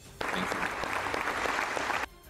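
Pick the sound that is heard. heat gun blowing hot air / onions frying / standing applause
standing applause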